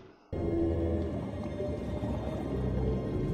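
A whale in a film scene, rising from the seabed as an ancient whale opening its mouth to eat small fish, lets out a loud sustained low groaning call that starts abruptly and rumbles on with a deep resonant tone.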